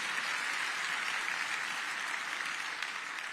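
Steady, dense audience applause for a county Board of Commissioners at a DeKalb County State of the County address, a continuous wash of clapping that holds for several seconds and tapers slightly at the end.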